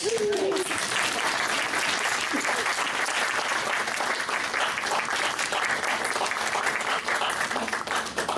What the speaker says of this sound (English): Give a round of applause for Mars, everybody